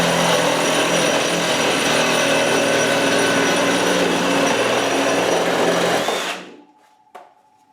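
A Milwaukee M18 Fuel reciprocating saw cuts through material in non-orbital mode, giving a loud, continuous buzzing drone for about six seconds before stopping abruptly, followed by a short click.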